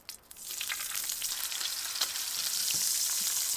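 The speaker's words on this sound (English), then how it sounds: "crisp up some ham" Ham crisps in a pan at a snowy winter campsite in -16° cold; a quiet start swells into a dense, steady, close sizzle with occasional soft pops, no talking.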